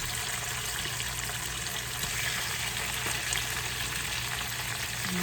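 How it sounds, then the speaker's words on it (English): Beef sautéing in a pan for Haitian-style spinach with beef and shrimp, a steady loud sizzle and crackle of frying running unbroken throughout, with no talking. "I am going to now put my meat in there, okay, so I can saute it."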